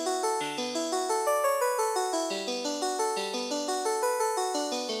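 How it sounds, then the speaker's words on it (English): A simple synth arpeggio with a Game Boy-like chiptune tone, built in Ableton, plays quick repeating plucked notes in a steady rhythm, quiet and alone. "It is just a little simple ARP to start off with."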